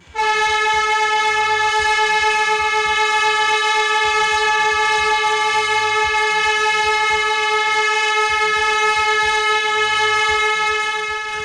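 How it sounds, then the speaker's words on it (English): A refinery rescue air horn sounds one long, loud, continuous blast, a steady harsh tone held for over eleven seconds without a break, close and alone. "The signal is 1 long blast on the air horn."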